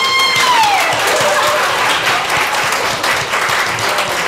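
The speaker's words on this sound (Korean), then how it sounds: "박수 부탁드리겠습니다" Sustained audience applause for a book's author at a Korean book event, dense clapping from a crowd that holds steady with a brief tone at the start.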